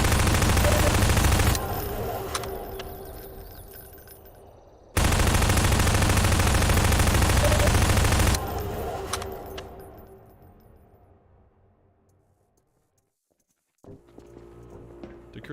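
Player gunfire at enemies in Half-Life 2: Episode Two: two long, loud, continuous bursts of rapid shooting, each cut off abruptly and trailing into quieter decay, followed by near silence and a faint return of sound.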